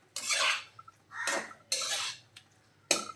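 Utensil scraping and stirring egg masala in a pan, four rough scratchy strokes with short pauses between, close and moderately loud with no talk.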